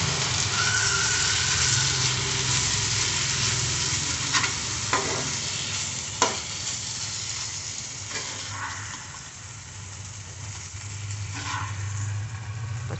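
Potato vegetable curry stirred in a pan, a steady soft sizzle with occasional sharp scrapes and clicks of the spoon against the pan, close and continuous.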